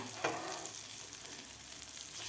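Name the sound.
egg and capsicum rings frying in a pan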